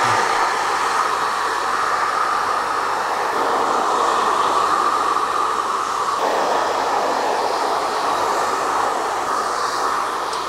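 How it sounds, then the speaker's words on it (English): A hair dryer on high heat and medium speed blows over short curly tapered hair in a barber setting, giving a continuous, even rushing hum that runs unbroken from start to finish at close range. "Dry it off in the shape. High heat and a medium speed."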